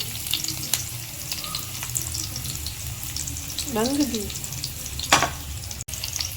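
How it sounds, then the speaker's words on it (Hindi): Spices for sarson ka saag tempering sizzle in hot oil with a soft crackling hiss, joined by a few sharp clinks and scrapes of a utensil, while a voice speaks briefly. "इस टाइम पे ये देखें ये जो तड़का लग रहा है इसको"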